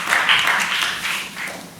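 Audience applause at a student government election forum in a lecture theatre: dense, steady clapping from a crowd, fairly loud and close, fading slightly toward the end with no talk over it.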